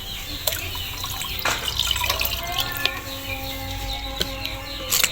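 Liquid fertilizer is stirred into about four and a half to five liters of water for potted grapevines, giving soft sloshing and dripping sounds with occasional small clinks, moderately close and steady throughout.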